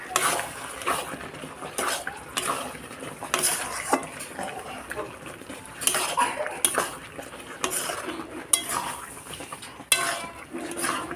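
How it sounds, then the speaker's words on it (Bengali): Taro greens seasoned with red chilli powder are stirred in a pan with a metal spoon, giving repeated close scrapes and clanks against the pan in an irregular rhythm over a light sizzle. "সব শুদ্ধ দিয়ে ভালোভাবে আমি এবার নেড়ে নেব।"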